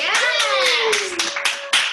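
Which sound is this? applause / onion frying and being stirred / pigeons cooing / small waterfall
applause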